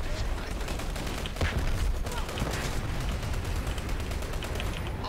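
Dense explosions and gunfire fill a Dirty Bomb online shooter match, a continuous loud crackling barrage with repeated booms, and players talk faintly underneath.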